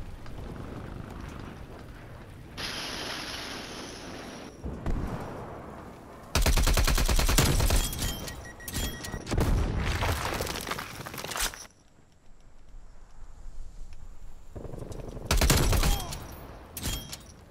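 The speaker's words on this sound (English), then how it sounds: "Hostile sentry turret active." Rapid automatic gunfire from a sentry turret in a video game, coming in several loud bursts separated by quieter gaps, with no speech over it.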